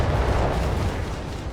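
Mortar fire and explosions in the real-time strategy game Company of Heroes 3, a dense continuous rumble of booms and blasts that stays loud and low throughout, with no voices.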